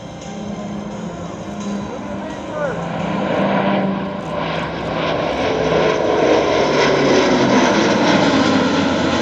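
Engines of an Airbus A400M Atlas military transport aircraft drone steadily at an airshow, a broad propeller roar that swells slightly and stays loud beneath someone talking.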